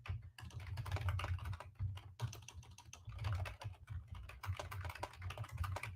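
Rapid typing on a computer keyboard, close and quiet, bursts of clattering keystrokes with brief pauses between them, no voices.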